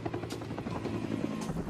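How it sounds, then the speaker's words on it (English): A military helicopter flying about 20 yards off the ground thumps close and loud, its rotor beating in a rapid, steady pulse over a low engine drone. "The helicopter raced 20 yards off the ground to avoid enemy radar."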